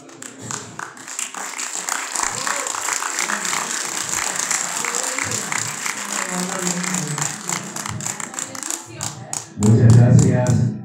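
An audience applauds at a Paraguayan Guarania day award ceremony honoring the Asociación Cultural Paraguaya Guaraní, a steady patter of clapping in a hall with voices underneath, ending in a louder burst near the end.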